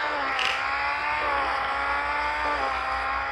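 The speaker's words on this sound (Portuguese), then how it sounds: "Vai derrapar na curva." Car engine drone with tire squeal as a car skids around a curve in a mobile racing game for Android, a steady engine tone holding throughout with a brief screech near the start.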